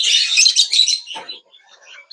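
African lovebirds chirp loudly and close by in a breeding setup, a burst of rapid, shrill overlapping calls that trails off into a few scattered softer chirps.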